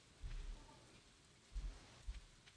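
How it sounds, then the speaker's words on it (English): Rain patters steadily in a video game's beach scene, a soft hiss broken by a few low thuds. "It is. It's raining here, too."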